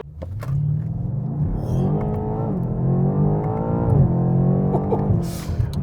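A BMW M8 Competition accelerates hard toward 100, its engine note climbing steadily through the gears with a deep, loud exhaust rumble and a brief shift dip partway through, close to the car and with no talking.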